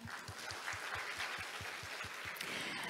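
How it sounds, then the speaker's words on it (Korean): Faint, steady clapping from an audience, a dense patter of many hands with a low rhythmic thump underneath, heard from some distance. "다시 한번 큰 박수 부탁드립니다."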